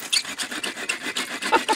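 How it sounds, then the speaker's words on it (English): An AGAWA Boreal 24 folding saw cuts through wood during shelter building outdoors, with about a dozen quick rasping strokes in a steady back-and-forth rhythm, close and alone. "and then you started sawing"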